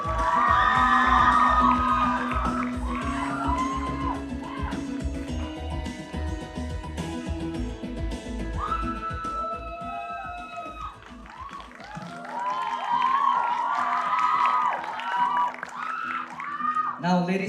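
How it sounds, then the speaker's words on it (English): A large pageant audience at the Miss Kohima 2025 contest in Jotsoma cheers, whoops and claps for a contestant, a loud sustained roar with shouting voices that dips briefly and then swells again. "please give a huge round of applause for Miss Talent, contestant number 9, Kechangunuo"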